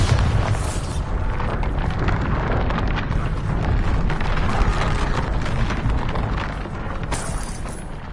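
The Bombarda blasting spell from Hogwarts Legacy explodes in a loud, sustained booming roar that rumbles steadily for several seconds.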